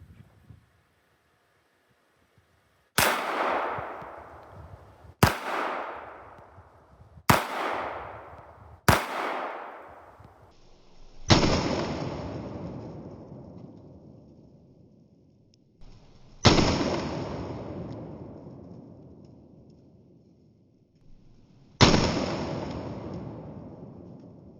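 A Walther WMP pistol in .22 WMR fires seven sharp shots at eggs outdoors, four quick cracks at first and then three more spaced farther apart, each trailing off in a long ringing echo.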